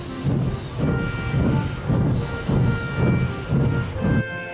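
Henry, a steam locomotive in the Trainz railway game, chuffs steadily in a regular rhythm of about six or seven beats, moderately loud with a low rumbling body.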